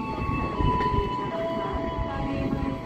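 KRL commuter train passing through a station: a loud, close, steady rumble with a sustained tonal whine or horn-like hum over it, heard alone without talk.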